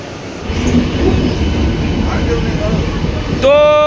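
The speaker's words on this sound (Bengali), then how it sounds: "এই যে আমরা তারকেশ্বরে যাচ্ছি এই ট্রেনে" A passenger train from Howrah rumbles along with a steady broad roar, muffled voices underneath, and a sharp tonal squeal rising near the end.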